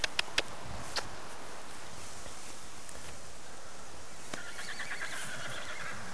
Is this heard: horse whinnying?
yes